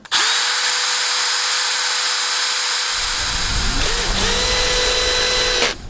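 A power drill driving screws on a greenhouse whines steadily for several seconds at close range, briefly pausing and revving again before stopping.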